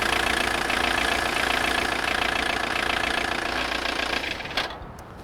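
A diesel engine runs steadily during an MOT emission test, a loud, close, even idling drone with a rough knocking texture that holds for several seconds before dropping away near the end.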